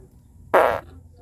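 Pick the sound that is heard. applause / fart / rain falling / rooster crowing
fart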